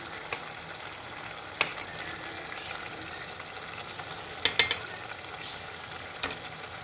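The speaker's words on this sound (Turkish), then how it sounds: "Kabağımızı karıştıralım. Şöyle çorbamızla karıştıralım." Faint stirring of a village squash dish mixed with soup in a pot, giving soft scrapes and a few sharper utensil clinks against the pot over a low cooking sizzle.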